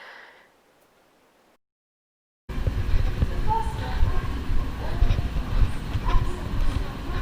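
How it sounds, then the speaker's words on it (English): Loud, steady rumble of an airport terminal shuttle train moving through the terminal, with clattering and rattling throughout after a brief quiet start. "just waiting to get on this train, I think, to go to the other part of the terminal"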